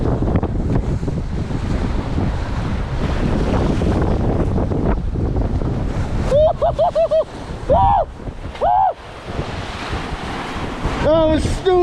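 Strong wind roars across the microphone on a Lake Champlain shore, loud and gusting without pause, with brief tonal squeals from fishing gear cutting through near the end.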